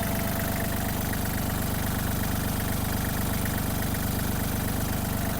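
Kubota GL-261 tractor diesel engine idling, a loud, steady rhythmic chug with constant low pulsing and mechanical clatter throughout, no voices.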